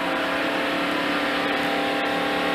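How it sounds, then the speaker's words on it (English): A race car engine at a 1992 NASCAR race holds a steady, droning hum at about 4,000 RPM in fourth gear, heard from close by with no talking. "And you can hear the engine running."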